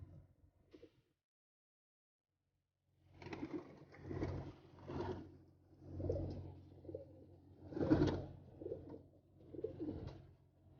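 Male pigeons coo up close in repeated soft, throaty bursts, a rhythmic series of low hooting calls after a brief quiet stretch.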